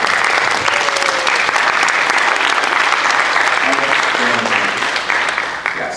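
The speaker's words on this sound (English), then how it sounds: "they deserve a hearty round of applause" An audience gives a hearty, dense round of applause for guest teachers at a Chinese-teaching event in Ohio, steady and loud before tapering off near the end.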